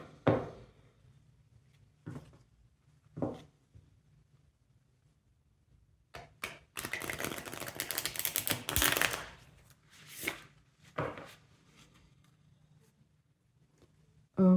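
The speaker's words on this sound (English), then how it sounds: "I will just shuffle the cards a little bit" Tarot cards are shuffled by hand in a quiet room, with a few soft isolated riffles followed by a longer rapid flurry of card shuffling and scattered taps afterward.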